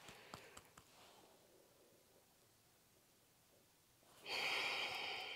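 Coffee grounds being sniffed close up during a cupping, a few short soft nasal sniffs at the start followed by quiet, then a loud sustained rush of airy noise near the end.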